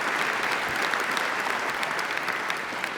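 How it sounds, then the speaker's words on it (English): A keynote audience gives the morning's speakers a round of applause, steady, dense clapping from a large crowd that holds an even level throughout. "Let's give another big round of applause to the other speakers this morning."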